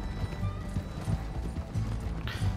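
Horses clip-clop rapidly in Red Dead Redemption 2, a soft continuous patter of hooves mixed with faint mechanical rattling, fairly quiet and without speech.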